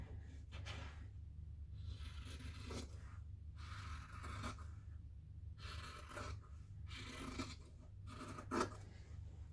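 Scissors cutting fabric around a circle template for a dice bag, a series of short rasping snips and scrapes in quick bursts separated by brief pauses, close and fairly quiet.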